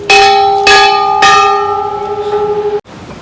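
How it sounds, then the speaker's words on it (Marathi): A metal temple bell at the Bhairav Baba temple near Kedarnath rings three times in quick succession, loud and close, each strike leaving a bright sustained tone that slowly fades before cutting off abruptly. "अरे घंटी."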